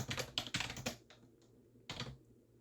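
Quick clusters of keystrokes on a computer keyboard, close but quiet, a fast flurry followed by a few scattered taps after a pause.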